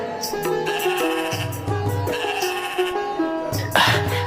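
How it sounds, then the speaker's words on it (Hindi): Sheep bleating in a Hindi cartoon story: several wavering, nasal bleats overlap against a musical backing, loud and close, with no speech. "ये भेड़ें तो बड़ी ही अच्छी नस्ल की लग रही हैं"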